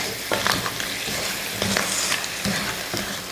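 Crab masala being stirred in a frying pan, with scraping spoon strokes in an irregular rhythm over a steady close sizzle.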